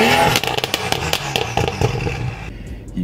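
Exhaust pops and crackles from a modified BMW F30 335i, with irregular sharp bursts over a rough engine drone that cuts off near the end.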